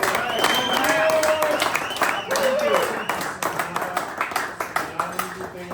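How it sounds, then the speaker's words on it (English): A small crowd applauds the winner of a match play event, with a burst of clapping that overlaps someone speaking, then thins into distinct, rhythmic claps from fewer hands toward the end. "let's give a big round of applause for Matt Peck."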